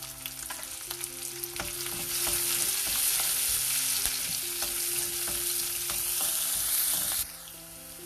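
Cumin seeds and green chilies fry in hot oil for a dal tadka, giving a loud, continuous close sizzle with stirring scrapes that swells after a couple of seconds and then drops off sharply near the end.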